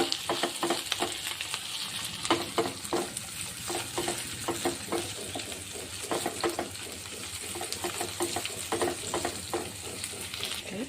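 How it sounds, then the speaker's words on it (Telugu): Ginger garlic paste frying in oil gives a steady sizzle throughout, punctuated by repeated scraping stirs of a spoon against the pan; no speech. "ఆయిల్ పైకి వచ్చింది సార్ కలుపు ఒక్కసారి కలుపుదాం"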